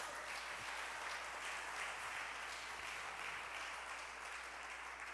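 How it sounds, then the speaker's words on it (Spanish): Church congregation applauding together, a steady wash of clapping held at an even level for several seconds, fairly distant and without any talk over it. "¿Cuánto le puede dar un fuerte aplauso a Jesús?"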